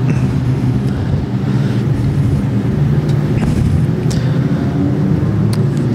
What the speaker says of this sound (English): Cars into the top turn.